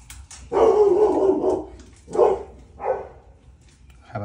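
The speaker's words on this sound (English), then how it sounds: "Have a dog barking on the background" A dog barks in the background of a workshop, three separate loud barks, the first drawn out, then two shorter ones spaced about a second apart.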